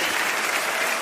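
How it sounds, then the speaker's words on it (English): Steady applause sound effect played on a radio talk show, a dense wash of clapping that stays loud and even from start to finish with no voices over it. "let me give you a round of applause on that"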